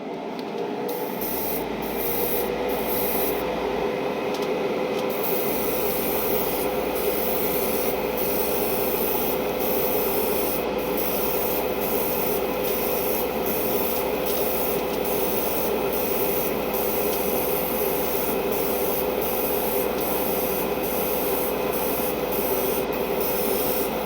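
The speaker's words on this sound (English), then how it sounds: "Now it's spraying pretty nicely" A Gaahleri Seeker airbrush sprays primer with a steady, continuous hiss, interrupted by a short pause early on, and rhythmic faint ticks recur throughout.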